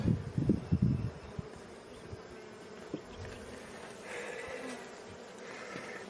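Honeybees swarm around an open hive during a frame inspection, their soft continuous hum sitting under some nearby handling thumps and rustles at the start.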